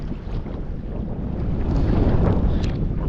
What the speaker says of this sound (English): Just letting the wind take us with the wind sail.